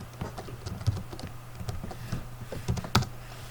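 Fingers type on a computer keyboard while writing code, a quick, uneven patter of close key clicks with short pauses and a few harder strikes.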